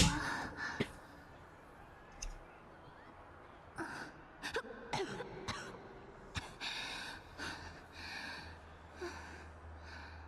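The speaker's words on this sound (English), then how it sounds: "Why did her cough just then sound kind of like far away and echoey?" A female character coughs in the video game Wuthering Waves, the sound thin, distant and echoey, a few brief hacking bursts and throat noises scattered over quiet background ambience.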